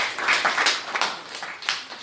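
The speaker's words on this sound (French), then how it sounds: "On peut l'applaudir." An audience at an evening church teaching session applauds, a steady, moderately loud patter of many hands clapping that swells and eases over about two seconds, with no voices heard.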